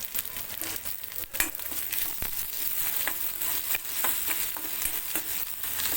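Chopped ginger, garlic and two green chillies frying and being stirred in a pan for a spicy stuffed brinjal and chilli dish, a steady close sizzle broken by scraping stir strokes throughout.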